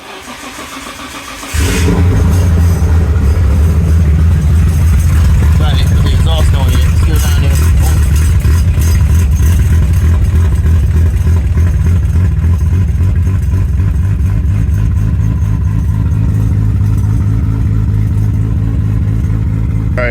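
A Nissan Skyline R33 V-Spec fires up after sitting about two weeks, catching loudly after a brief crank and settling into a rough, deep, close idle that runs on steadily, with occasional talk over it.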